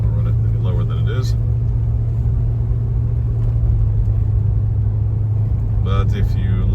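A 1973 Cadillac Fleetwood with low original mileage cruises around the block, its engine a steady low rumble with road noise throughout and brief clunks near the start and end.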